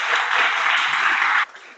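A church congregation at a service in Batam breaks into a short, steady wash of applause. Many hands clap together for about a second and a half, then the sound stops abruptly and only a faint tail is left.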